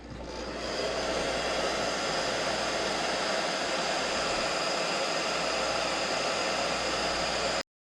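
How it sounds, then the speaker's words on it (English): Heat gun blowing hot air to cure paint on a fishing lure, a steady loud roaring hiss that starts up and runs unbroken to an abrupt stop. "Let's heat set it and do the others the same way."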